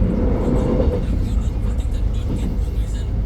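A Vietnamese passenger train runs on the Ho Chi Minh City–Hanoi rail line, heard from inside as a steady, loud low rumble and rattle of wheels and carriage with no break.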